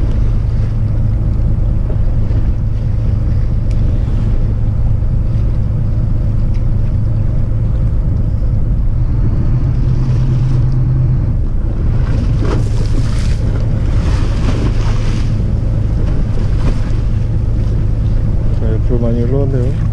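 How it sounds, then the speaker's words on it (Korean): Heavy sea swells surge and slosh around a small fishing boat out after webfoot octopus and cuttlefish on a windy day, a loud continuous roar with buffeting wind noise on the microphone and a faint voice now and then. "파도는 넘실대고"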